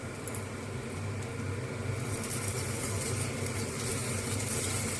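Sliced onion sizzles in a frying pan as ginger paste is stirred in, a steady hiss that grows louder partway through, alongside a faint background hum.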